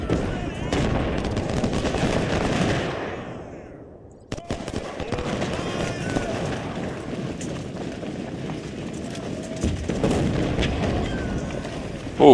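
Artillery fire in the Ultimate General: Civil War video game: dense rattling volleys and booming shots roll continuously, dropping briefly to near silence before resuming, with battle noise underneath.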